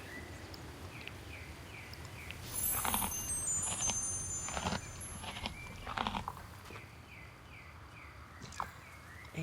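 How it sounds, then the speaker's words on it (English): Horse hooves clip-clop at a steady walking pace in the Star Stable Online game, with occasional high whinny-like calls over a soft outdoor ambience. "I need to feed the horse"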